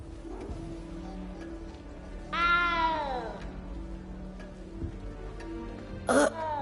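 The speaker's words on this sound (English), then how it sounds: "You don't need to be frightened, little cat." A video game cat meows once, clear and upward-bending, over soft game ambience, followed later by a brief sharp noise; nobody talks.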